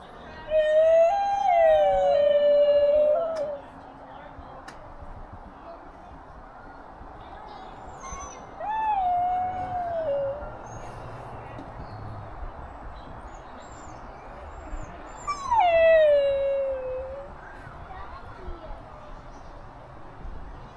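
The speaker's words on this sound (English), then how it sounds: "New Guinea singing dogs." New Guinea singing dogs at a zoo give three separate long, gliding, siren-like howls spaced several seconds apart, clear over a quiet outdoor background with faint murmuring.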